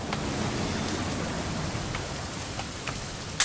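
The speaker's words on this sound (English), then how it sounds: "It's gonna rain the whole weekend, isn't it?" Steady rain falls in the video game What Remains of Edith Finch, a constant dense hiss of drops on surfaces with a few sharper ticks, loud and close throughout.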